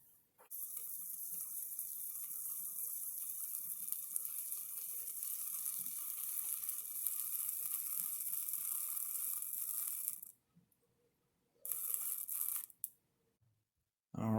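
Residual water sizzles off freshly panned placer gold being dried on a small pan: a steady, bright hiss runs for about ten seconds, cuts out, then flares briefly once more before falling silent.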